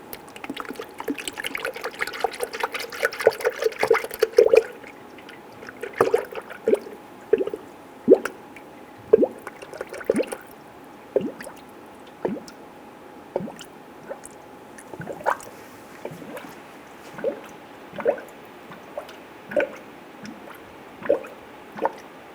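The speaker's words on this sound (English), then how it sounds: "start to fill the cooling system with the recommended coolant from the manufacturer" Coolant poured into the radiator of a 1994-2004 Ford Mustang 3.8L V6 during a water pump replacement: a steady glugging liquid pour, then a long series of evenly spaced drips and splashes, close and fairly loud, with no talk.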